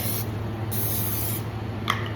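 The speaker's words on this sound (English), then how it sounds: "We're gonna spray some hand spray on this bad boy." Cooking spray hissing onto a heated waffle iron in two short close bursts, a brief one first and then a longer spray, followed by a faint tick.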